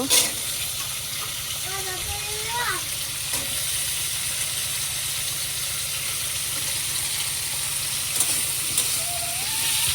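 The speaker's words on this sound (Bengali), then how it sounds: "এবার আলু তেলের পরে দিয়েছি, টমেটো, আলু, টমেটো, এদিকে ডাটা দিয়ে দেব।" Potatoes and tomatoes fry in hot oil with a continuous close crackling sizzle under a faint voice and a few brief tonal chirps early on.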